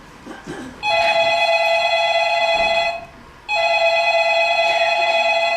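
A telephone rings with a steady electronic tone in two long bursts, a short pause between them, loud and close, with no talk over it.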